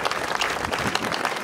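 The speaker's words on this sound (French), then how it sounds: "Alors vous pouvez applaudir Charles." An audience at a Challans fair show welcomes a volunteer with steady, dense applause, close and continuous for the whole moment with no gaps.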